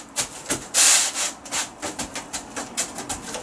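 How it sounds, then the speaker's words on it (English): Sandpaper rubbing along the edges of wooden tabletop terrain tiles, a close, loud series of quick rasping strokes in an even back-and-forth rhythm. "we're going to sand all these edges"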